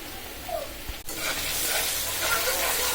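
Onion, garlic, green chilli, ginger and dry ground spices fry in a pan for a chicken and potato curry, a steady close sizzle and hiss with a brief stir or clatter near the start, no talking.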